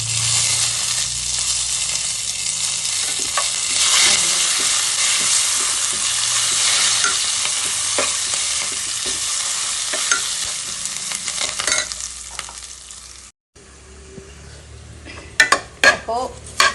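Grated coconut roasting with curry leaves in a hot pan is stirred vigorously, a continuous dry sizzle and scraping with repeated clinks of the spoon against the pan, pausing briefly before a few sharper knocks.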